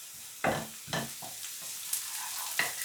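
Onion and garlic sautéing in a pan under a constant gentle sizzle, with a few distinct scraping stirs of a utensil against the pan, close and moderately quiet.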